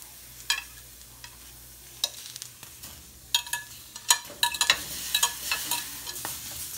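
Morita chiles and a clove of garlic fry in a pan for salsa, giving steady faint sizzling punctuated by sharp clicks and taps of stirring that grow busier toward the end, with no voices.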